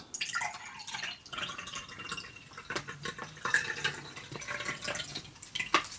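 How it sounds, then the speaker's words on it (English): Lemon drink from a Norwegian Arctic field ration pouch being poured into a glass, a steady close splashing stream with small drips and gurgles, no talking. "Then pour that into the glass."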